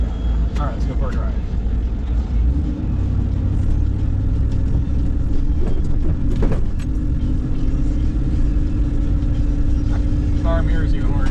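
Steady low engine rumble of a built 1996 Jeep Grand Cherokee crawler driving, continuous and close, with road noise and occasional faint clunks over the drone.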